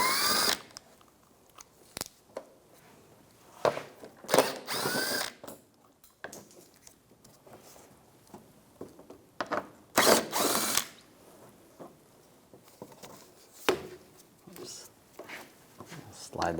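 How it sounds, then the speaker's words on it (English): Ratchet with a 10mm socket removing bolts on a 2004-2009 Toyota Prius during grille replacement, giving short bursts of quick clicking separated by quiet stretches and occasional clunks, close by, with a voice talking in between. "Using a 10mm socket, take all these bolts out."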